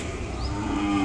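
A five-month-old calf moos at a cattle market where Ongole bulls are sold, one drawn-out low call filling the whole moment, close and steady, with no talk over it.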